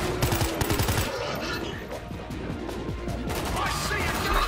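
Rapid automatic gunfire bursts in the zombie shooter World War Z, loud and close, with dense rattling shots and some crashes continuing throughout under occasional game voices.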